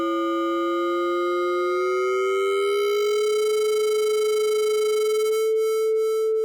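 A ring-modulated synthesizer sine wave sounds as a buzzy, siren-like tone whose pitch slowly glides upward and then settles into a smoother steady pure tone, continuous and alone.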